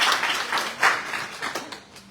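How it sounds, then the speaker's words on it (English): Audience at a town hall meeting with Sierra Leone's president clapping to welcome the foreign minister, a brief burst of dense applause with a few louder claps standing out. "clap for him"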